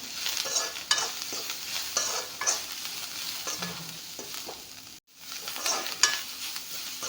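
Onions with salt sizzle steadily in a pan while a spatula scrapes and stirs them in repeated strokes, a close, continuous frying hiss broken by a brief pause midway.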